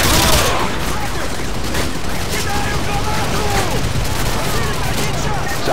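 Sustained gunfire from a Call of Duty Modern Warfare 2 battle rattles continuously and loudly, dense overlapping shots and bursts filling the scene without pause.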